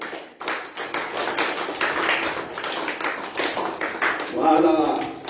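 Church congregation clapping and cheering together in a worship service, dense sustained applause with voices mixed in throughout, swelling louder near the end.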